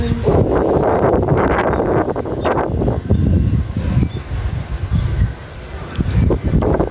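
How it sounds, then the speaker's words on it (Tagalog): Steady wind buffets the microphone with a low rumble, gusting louder and softer, with faint rustling in the background. "Ayan guys, ang sarap ng hangin."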